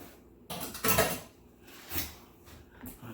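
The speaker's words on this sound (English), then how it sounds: "I'm just going to throw the driver and everything in the sink" Blender parts from a Nutramill Artiste, including the drive piece, are tossed into a kitchen sink, giving a few loud clattering knocks of plastic and metal against the basin, followed by lighter clinks.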